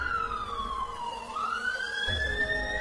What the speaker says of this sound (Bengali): সর্বনাশ, পুলিশের গাড়ি।